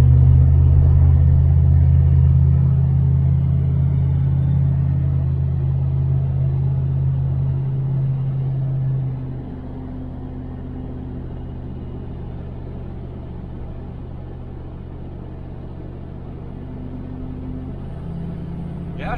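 A 1978 El Camino SS being driven on the road, its engine giving a steady low rumble throughout, louder at first and settling to a quieter drone partway through, with faint talk over it.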